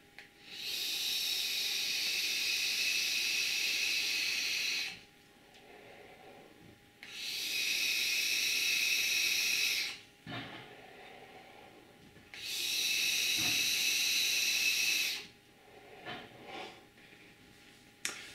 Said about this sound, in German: Und dass das Ganze dampft, machen wir mal den Test.